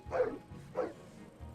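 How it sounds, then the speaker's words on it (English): Mechanical dogs in the video game Syberia 3 bark angrily, two loud bursts about half a second apart, alone with a low background hum. "Oh no, all the dogs are angry."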